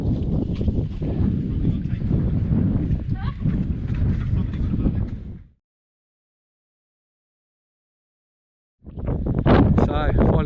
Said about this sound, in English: You have to excuse the wind.